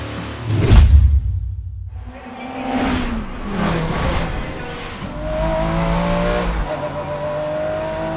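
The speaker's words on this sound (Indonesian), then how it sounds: "Film dibuka dengan aksi balapan mobil paling bergengsi, GT World Challenge, yang saat itu digelar di Belgia." GT World Challenge race cars in a film scene set in Belgium, a loud engine roar and whoosh passing close, then several cars revving and droning on with shifting pitch, steady and fairly loud throughout.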